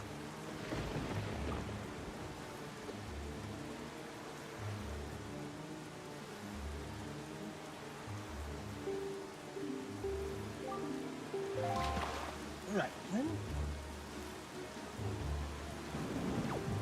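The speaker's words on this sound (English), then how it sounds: "Let's avoid the big storm. That looks pretty nasty." Rain and a thunderstorm in the video game The Legend of Zelda: The Wind Waker HD, with steady rainfall and rolling thunder around music, loud throughout, plus a brief spoken phrase at the start.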